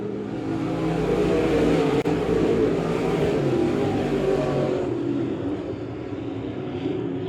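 A pack of modified race cars laps Monett Motor Speedway, a dense, continuous engine roar that stays loud and steady, then eases slightly as the cars pass away, with no talking.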